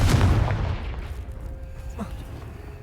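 A Confringo blasting spell goes off in the Hogwarts Legacy video game, a loud booming burst up front that decays over about a second into a lower rumble, with a small secondary pop later.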